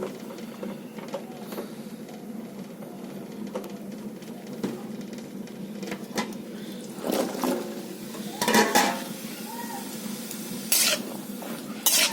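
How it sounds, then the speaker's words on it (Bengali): Winter vegetables fry in oil in a wok, giving a steady close sizzle with intermittent louder bursts of scraping and stirring, and no talk. "আমি কড়াইতে তেল দিয়ে দিচ্ছি আমি সবজিগুলো এখন একটু ভেজে নেবো"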